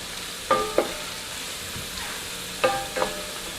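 Cream cheese, sour cream and cream of mushroom soup stirred into a tater tot casserole: a few soft, brief scraping strokes in two pairs, quiet and close, with no talking.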